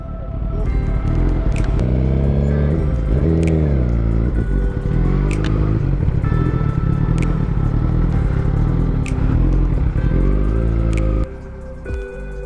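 Suzuki GSX-R sport motorcycle pulling away and accelerating steadily through several gear changes, the engine note rising and dropping with each shift, loud and close with wind buffeting throughout.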